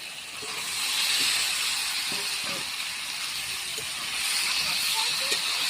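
Vegetables go into a pan of well-fried spiced masala and sizzle in a loud, continuous hiss that swells and stays steady, with a few faint clinks beneath.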